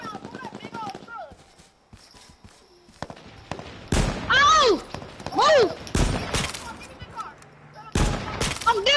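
Gunfire in the survival shooter H1Z1 on PS4, sharp scattered shots and short bursts breaking out in clusters while players talk excitedly over the action.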